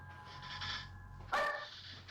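A dog gives a single sharp bark, fairly near and loud, against a low steady background hum with faint room noise before and after.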